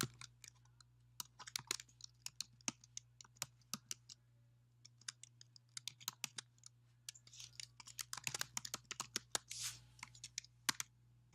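Rapid, uneven keystrokes on a computer keyboard as a network ID and password are entered, close and crisp in a quiet room, with short pauses and a denser burst of typing near the end.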